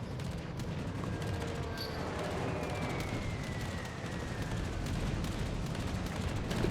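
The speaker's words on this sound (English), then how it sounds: "At least my AA guns is a good distance for shooting." Anti-aircraft guns on a premium cruiser in World of Warships Legends fire in a dense, continuous rattle, a steady barrage of rapid shots under a low rumble throughout.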